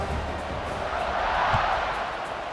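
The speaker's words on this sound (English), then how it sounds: "this crowd is buzzing after that last score" A football video game crowd buzzes in a steady, dense roar after a score, a continuous wash of stadium noise with no clear breaks.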